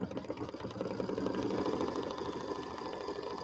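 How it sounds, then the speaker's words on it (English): Sewing machine stitching rickrack trim onto a quilted table topper, one continuous steady mechanical whir heard up close for a few seconds with no talk. "now I'm going to sew on my rickrack"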